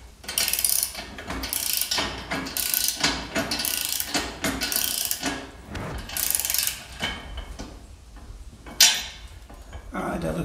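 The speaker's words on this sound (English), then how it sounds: "now Eric's tightening the screws down on those brackets holding the axle" Ratchet wrench tightening screws on the axle brackets of a Polar golf cart trailer during assembly, heard as repeated bursts of rapid clicking close up, with short pauses between strokes.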